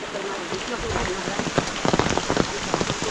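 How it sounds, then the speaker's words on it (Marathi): Heavy monsoon rain pours down in a Konkan village, a dense, loud, continuous hiss with sharper drips and patters striking nearby surfaces and no voices. "आज डेमो नाही चांगलाच पाऊस आला आहे"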